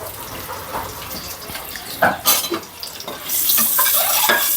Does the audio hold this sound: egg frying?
yes